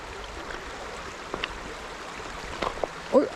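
Shallow stream water about ankle deep flows steadily during river sweetfish fishing on the Osipcheon in Samcheok, a soft continuous wash with a few small splashes near the end and no talk.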